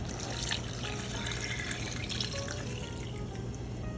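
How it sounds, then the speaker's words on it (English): Beef broth poured into a pot during cooking, a continuous close splashing and trickling stream of liquid, steady and moderately loud with no talk. "we're now gonna add in our beef broth here"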